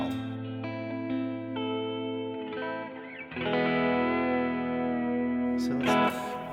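Guitar played through a Vongon Ultrasheer pedal with its reverb feeding the vibrato gives sustained chords with a wavering pitch wobble and a lush wash, which swells louder partway through. No one speaks.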